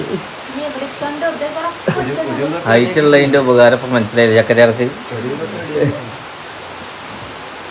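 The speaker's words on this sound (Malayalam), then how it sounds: "കുറേ കാലത്തിന് ശേഷം മഴ കണ്ട പൊലിവിലാണ്" Heavy rain falls on a tiled-roof house, a steady broadband hiss that runs through the whole stretch while people talk over it.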